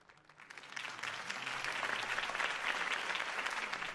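Applause from a large crowd after a campaign speech in the video game Batman: The Telltale Series swells up and holds steady, a dense wash of clapping heard from a slight distance.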